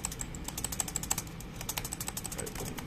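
Rapid, steady typing on an Asus Vivobook Pro 15 OLED laptop keyboard, with a faint high squeak from a stabilizer accompanying many of the keystrokes.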